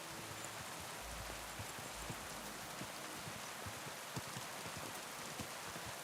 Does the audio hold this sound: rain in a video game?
yes